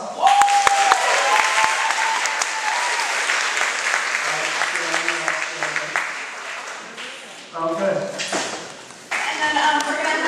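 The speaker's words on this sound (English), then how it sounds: "A round of applause." A school talent show audience applauds in a dense, sustained burst of clapping, with talk over it and brief dips and swells toward the end.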